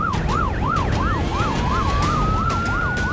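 A wailing ambulance siren cycles rapidly up and down, loud and close, with a second rising tone sweeping in partway through over steady traffic rumble.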